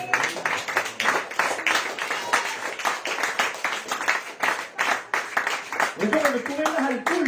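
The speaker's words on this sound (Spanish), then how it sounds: "Dele aplauso al Señor." A church congregation claps for the Lord during a sermon, with rhythmic, fairly loud hand claps mixed with voices, and a person speaks near the end.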